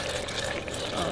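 Coconut milk pours in a steady, soft liquid stream into a pot of chicken cooking for Thai red curry, a brief continuous gurgle with no talk.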